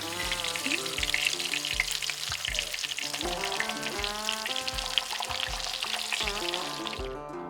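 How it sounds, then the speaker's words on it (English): Steady, loud sizzling of kingfish searing in a hot pan, a dense crackling hiss with some clinks and scraping over it, fading at the very end. "we're just going to do the kingfish sear."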